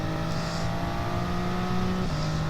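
A race car in a racing game pulls out of the pits after a tyre change, its engine droning steadily and loudly with sustained tonal harmonics and a slight pitch shift near the end.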